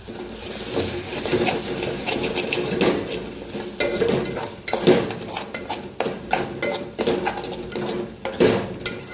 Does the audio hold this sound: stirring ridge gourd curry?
yes